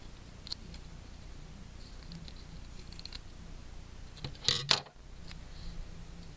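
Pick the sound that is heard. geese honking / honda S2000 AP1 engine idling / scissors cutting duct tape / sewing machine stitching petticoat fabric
scissors cutting duct tape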